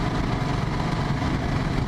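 A motorcycle running with a VW Beetle (Fusca) muffler on its exhaust, idling with a steady, muffled low rumble, near and unbroken, no one speaking.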